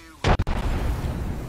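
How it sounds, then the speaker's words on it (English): A frag grenade bursts in a shooter video game with a sharp, loud blast followed by a brief rumbling tail, a couple of quick cracks in the decay. "Throwing a frag."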